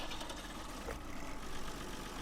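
A New Holland tractor in Farming Simulator 2013 starts up and settles into a steady, rough low engine rumble, close and unbroken, with no voices.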